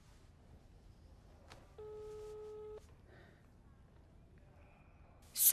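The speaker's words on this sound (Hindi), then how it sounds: "जिस व्यक्ति से आप संपर्क करना चाहते हैं उनका फोन दूसरे कॉल पर व्यस्त है।" A telephone busy tone sounds as a single steady electronic beep lasting about a second, heard faintly over a low background hiss, followed by a brief sharp noise at the very end.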